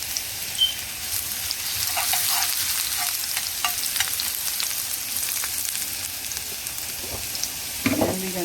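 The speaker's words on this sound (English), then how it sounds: "Fry it for 1 minute" Garlic frying in a pan for fried chicken wings in sticky sauce, a steady loud sizzle with scattered pops and light stirring scrapes throughout, no voices.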